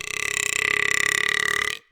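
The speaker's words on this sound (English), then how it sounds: "a perfect burp, it would be that" A long, loud, close burp lasting nearly two seconds, rough and pulsing throughout before cutting off abruptly.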